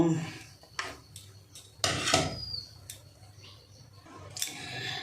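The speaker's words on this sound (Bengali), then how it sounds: "আমি ছুরির সাহায্যে পিস করছি" A knife cutting a boiled egg into quarters, a string of sharp clicks and taps against a board or plate, some louder and closer than others, over quiet background.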